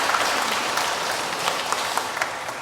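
A church congregation at Sunday Mass applauds the choir, steady clapping from many people filling the room, with a few sharper individual claps standing out near the end.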